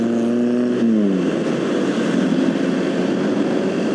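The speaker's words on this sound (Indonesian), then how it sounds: "Kita dahului mobil yang di depan ini." Motorcycle on the road between Madura and Surabaya accelerating to overtake a car, its engine note sliding through a gear change and then roaring on in a steady, loud drone.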